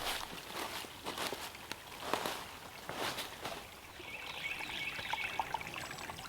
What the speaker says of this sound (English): now we're in the creek